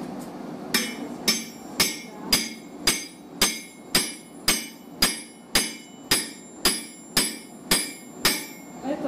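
Hammer striking a wooden chopping block outdoors, a steady series of about sixteen loud, sharp blows at an even rhythm, each ringing briefly before the next.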